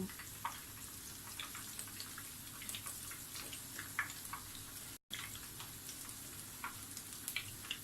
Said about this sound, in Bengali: পাতাটা এমনভাবে ভাজতে হবে যেন ভিতরের পুর সহ পাতাটা খুব ক্রিস্পি হয়ে যায়।